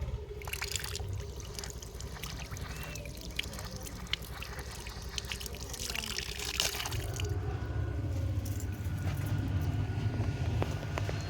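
Water running steadily from a stone spout at a hill temple, a continuous soft trickling and pouring outdoors, fairly faint with a low background rumble that grows a little heavier toward the end.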